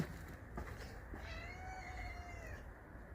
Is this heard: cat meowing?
yes